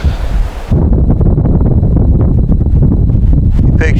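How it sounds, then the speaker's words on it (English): Gusty wind buffets the microphone outdoors beside a beehive, a loud continuous rumbling roar that swells after a brief lull and carries on steadily with rustling. "The wind is picking up here"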